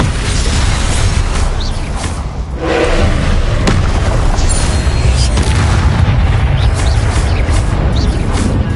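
Spell impact from Hogwarts Legacy, a Descendo slam in the midst of combat spells, heard as a dense, loud continuous barrage of booms and thuds with a brief dip before the rumble resumes.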